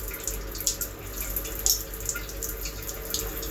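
Water sprays steadily and closely from a Westrend A3141 five-way massage shower head running at low pressure, giving a continuous hissing splash with no talking.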